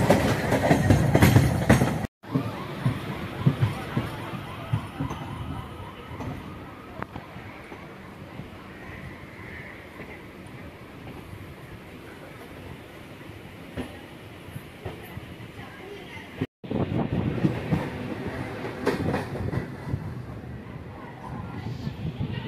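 Budge Budge local train running between Ballygunge and Lake Gardens in Kolkata, heard from on board as a steady rumble with rhythmic wheel clatter, louder at the start and end.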